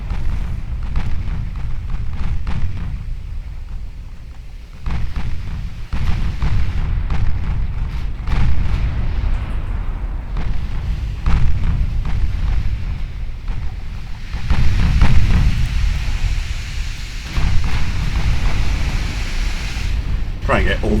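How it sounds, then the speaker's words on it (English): Warship turret guns fire in the naval video game Ultimate Admiral Dreadnoughts, with deep booms rolling over a constant wash of sea and wind noise, and someone talking through much of it. "Try and get all the turrets firing."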